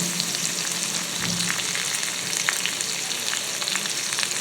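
Salmon fillets sizzling and frying in a hot pan for a teriyaki glaze, a steady close crackle with scattered pops and a faint stirring scrape near the start.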